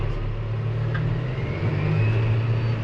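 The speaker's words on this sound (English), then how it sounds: "just turn the tractor around." A John Deere tractor engine hums steadily at close range while turning around during mowing work, a continuous low drone with a slight rise in revs and no speech.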